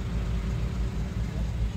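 The engine of a manual-transmission 4x4 Suzuki Jimny runs in a steady, close, low rumbling idle with no talking.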